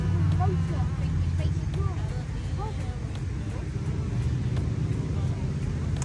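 A small-engine classic Ford Cortina idles at an outdoor classic car show, a steady low engine drone running throughout while voices talk nearby.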